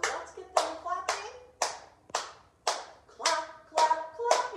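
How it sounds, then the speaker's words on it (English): Children and parents clap hands together in a music class for toddlers, a small group of sharp, near claps landing in a slow, regular rhythm about one beat every half second, with faint voices and song-like sounds between them. "So let's get them clapping."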